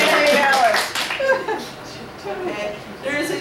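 Attendees at a club's general meeting clap briefly, a short ragged round of hands at the start mixed with chuckles and a speaker's voice, dropping off into talk within about a second.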